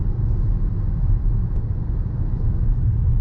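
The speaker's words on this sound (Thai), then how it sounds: "ทั้งเสียงของเครื่องยนต์แล้วก็เสียงลมที่เข้ามาในห้องโดยสารก็ดังพอสมควร" Inside the cabin of a fully optioned Haval Jolion on the road, a steady low engine rumble blends with wind noise, a constant, fairly loud drone with no talking.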